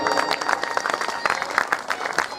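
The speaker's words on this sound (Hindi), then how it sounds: "हमारे मध्य सभी अतिथि पधारे, उनके लिए एक बार जोरदार तालियां।" Applause from guests at a Hindi devotional gathering for Shrimad Bhagavat Mahapuran, a dense patter of many hands mixed with crowd noise and some voices, steady throughout.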